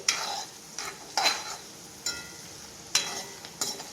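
Green chillies and peanuts frying in hot oil for sabudana khichdi, with a spoon stirring the pan in several separate scraping strokes over a soft, steady sizzle. No one speaks.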